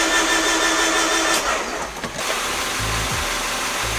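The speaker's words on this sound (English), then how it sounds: "Been cranking for probably a total of 5-10 second spurts" A turbocharged D16 engine in a Honda Del Sol cranks and catches, running as a steady, loud mechanical drone with a brief dip midway before settling into a rough idle.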